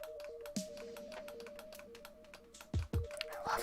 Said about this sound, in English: how many micro switches are in this thing. I mean, they're so clicky and noisy